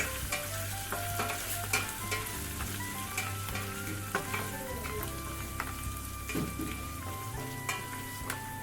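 Ingredients for a Kerala-style mutton roast, with garlic and ginger, are sautéed in a pan, a steady close sizzle with repeated spatula scrapes and light metallic taps, continuous and without talk.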